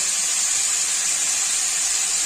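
Panch phoron five-spice seeds hit hot oil in a pan for a pumpkin-greens chorchori, giving a steady, loud hissing sizzle that runs unbroken through the whole moment with no talking.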